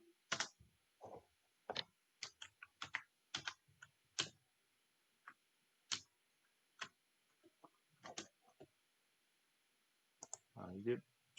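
Computer keyboard keys click one at a time in a quiet room, scattered taps with pauses, including an Enter press, close and crisp, ending with a soft voice murmuring briefly.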